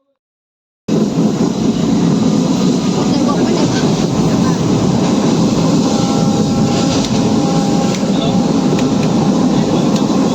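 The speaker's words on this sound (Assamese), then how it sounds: "এতিয়া আমি ট্ৰেইনত বহিলোহি আৰু আল্লাহৰ নাম লৈ তিনিচুকীয়ালৈ বুলি আজি আমাৰ যাত্ৰা আৰম্ভ হৈ গ'ল।" A moving passenger train bound for Tinsukia, heard from inside the carriage, gives a loud, steady rumble and roar that continues unbroken after a brief silent start.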